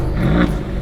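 A 2020 Mercedes-AMG GLC63 S V8 engine revs briefly up close, a loud low growl that swells and falls within a second, with no talking.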